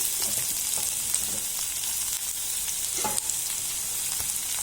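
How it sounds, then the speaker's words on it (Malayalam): Green chillies, onion, garlic and curry leaves frying in a pan for lunch, a steady bright sizzle with occasional stirring scrapes, close and continuous, no talking. "ഇതിൻ്റെ പച്ചമുളക്, കുറച്ച് സബോള ഇവിടെ ഇടാം, കുറച്ച് വെളുത്തുള്ളി, കറിവേപ്പില"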